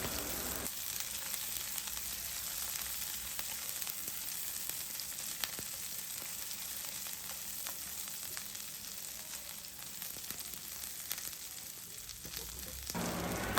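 Ginger garlic paste fries in sunflower oil over a medium flame, a faint, steady hiss scattered with small crackles and pops that runs almost uninterrupted.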